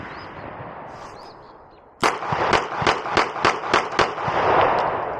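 Beretta PX4 Storm G-SD pistol fitted with a VPArmory compensator fires a fast string of about eight close, sharp shots outdoors.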